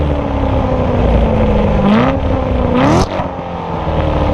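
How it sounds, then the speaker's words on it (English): A Chevrolet Corvette C7 with its exhaust in track mode revs loudly up close, the engine note climbing twice to a higher pitch before dropping back to a rumbling idle. "I want that exhaust note to constantly be in track because I like me some loud exhaust."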